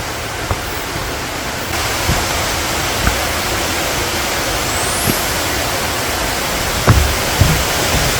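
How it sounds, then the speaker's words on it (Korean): A steady, loud roar of falling water from the Gamasot waterfall on a forest trail runs throughout, broad and unbroken, with a few faint knocks beneath it. "왼쪽으로 10m 아래쪽에 있는 가마솥 폭포를 잠시 보고 가겠습니다"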